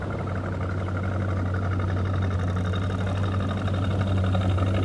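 A Chevrolet Corvette C5 engine runs steadily at idle with a deep, even burble at moderate volume and no clear revving.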